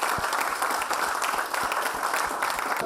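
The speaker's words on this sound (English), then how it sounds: "Please give a huge round of applause for Mr. Naveen Tiwari." An audience of students at a college orientation programme gives loud, continuous applause, a steady dense wash of clapping with a few sharp individual claps standing out.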